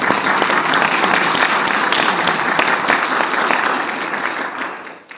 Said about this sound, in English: a round of applause for Pete, please.